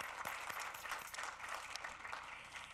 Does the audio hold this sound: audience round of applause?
yes